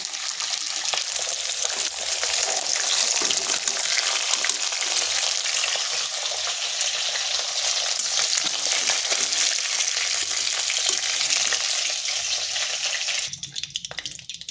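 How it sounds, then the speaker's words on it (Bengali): Pieces of katla fish frying in hot oil in a pan, a steady, loud, continuous sizzle filling the whole stretch, ending with a brief clatter as the frying is disturbed. "মাছগুলো তো খুব কড়া করে ভাজবো নি"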